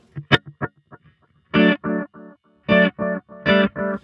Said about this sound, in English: with a bit of a bucket brigade delay on it.